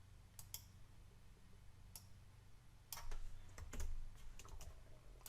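Quiet clicks of a computer mouse and taps of keyboard typing at a desk while working in ATLAS.ti software, scattered single clicks with a short flurry of keystrokes near the end, no speech.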